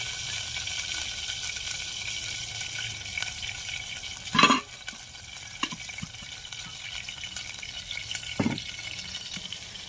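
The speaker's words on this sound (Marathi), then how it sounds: "टमाटर टाकले, आता तेल टाकते." Oil poured over chopped tomatoes in a hot pan gives two short, louder bursts of sizzle, a few seconds apart, over a constant low frying hiss heard up close, with no talking.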